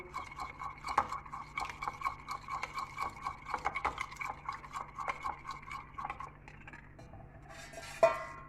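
A spoon scrapes and clinks against a bowl as milk is stirred into toddler food, with a steady run of metallic taps for about six seconds, then a softer rustle and one sharp clink near the end.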